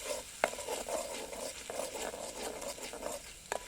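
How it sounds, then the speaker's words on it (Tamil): Egg masala paste sautéed in oil over a village cooking fire, giving a continuous close sizzle with soft stirring scrapes and a couple of sharp taps. "இந்த மசாலாவில் பச்சை வாசனை போகிற வரைக்கும் நல்லா எண்ணெயிலே வதக்கிக்கலாம்."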